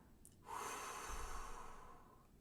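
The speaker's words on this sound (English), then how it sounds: "take a deep breath in together, hold and breathe out" A single deep, steady exhalation, close and fairly quiet, a soft airy rush that swells, holds for about two seconds and slowly fades, with no talk.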